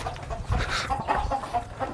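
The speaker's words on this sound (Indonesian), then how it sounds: "Sambil gusa ayam ini teman-teman." Chickens cluck close by in a sheep pen at a sheep-fattening farm, with several short overlapping clucks and murmurs over low rumbling pen noise.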